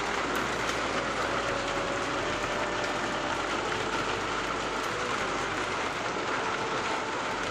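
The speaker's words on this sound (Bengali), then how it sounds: "গাইস এখন জোর বৃষ্টি নেমে গেছে" Heavy rain pours down outdoors in a steady, dense, loud roar of broadband hiss with no pauses, heard close up and alone without voices.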